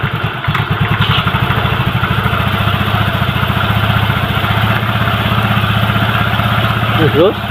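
A Honda Vario scooter engine idles steadily with a fast, even putter throughout, close by and loud.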